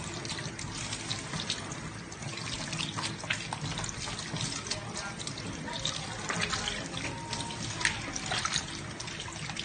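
Tap water runs steadily over hands being rinsed at a sink during handwashing, a continuous broad splashing hiss with small irregular spatters, close and fairly loud throughout.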